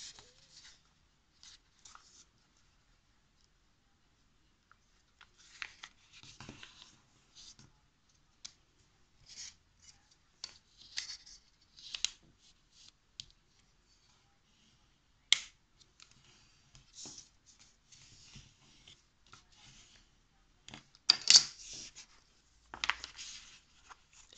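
Origami paper being folded in half, with soft, faint crinkles and sharp creasing clicks scattered through a quiet room.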